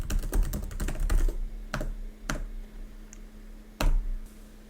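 Computer keyboard keys clack in a quick cluster of rapid presses, followed by a few isolated, sharper taps spaced apart, close and clear with no voices.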